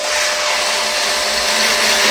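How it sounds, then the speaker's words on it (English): Pond vacuum sucking thick sludge and silt out of a barrel gives a loud, steady, close roaring hiss that stays constant throughout, with no speech. "I'm going to vac this out"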